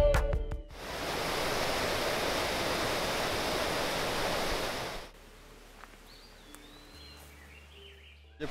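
A stream runs beside a forest trail near a Konkan village, a steady close rush of water lasting several seconds before cutting to quieter ambience with faint bird chirps.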